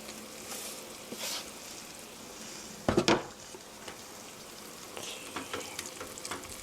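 Tofu cubes and chopped green onion hit a hot pan for mapo tofu, giving a sharp burst of sizzling near the middle that quickly settles back to a faint background crackle, with no talking.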